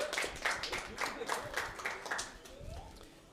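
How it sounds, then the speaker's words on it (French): Light applause from a small audience at a French Overcooked 2 gaming stream, scattered claps at moderate distance that gradually thin out over about three seconds. "Un tonnerre d'applaudissements s'il vous plaît."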